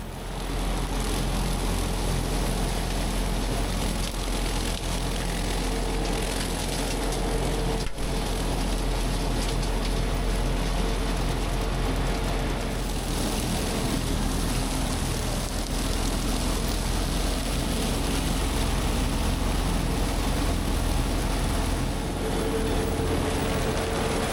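A 30 HP tractor pulling a pull-type mower through a field, its engine a steady, loud broadband drone with mechanical clatter running unbroken and close for the whole stretch, no voices.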